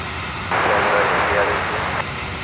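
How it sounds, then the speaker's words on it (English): A Boeing 777 jet begins its takeoff roll on Sydney's runway 16 in the evening, a loud, broad engine roar swelling in abruptly and holding steady for about a second and a half before cutting back. "Here we go, Tasman 21, 777 about to rip it out."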